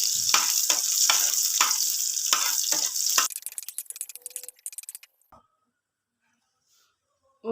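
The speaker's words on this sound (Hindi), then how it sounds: "और ये मैं ऊपर से तड़का लगा रही हूँ।" Butter tempering with garlic and whole red chillies poured over mustard greens, a loud hissing sizzle with rhythmic pulses for about three seconds, then crackling spits that fade quickly into near silence.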